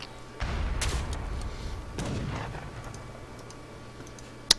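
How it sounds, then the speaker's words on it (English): A heavy cannon fires in Age of Empires III during a French versus British match on Mendocino, a few dull booming shots spaced apart with faint clicks and ticks between them. "this heavy cannon is shooting down his town center"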